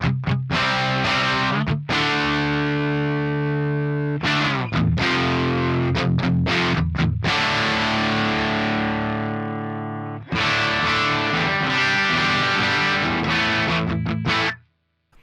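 An electric guitar plays through an Axe Fx III Dumble Overdrive Special amp model, loud distorted chords ringing out and sustaining, separated by short pauses.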